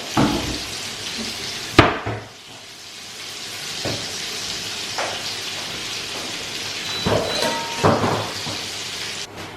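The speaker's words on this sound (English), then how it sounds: "So the cheese balls are just cooking away." Cheese jalapeño balls fry in a pan with a constant crackling sizzle, broken by a few sharper pops and clatters, close and fairly loud.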